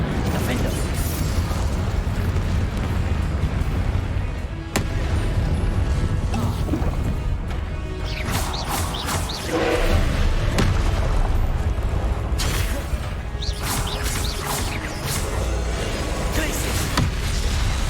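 Incendio fire spells cast over and over in Hogwarts Legacy combat, loud whooshing bursts and booms repeating through a constant busy mix of mechanical clatter and impacts.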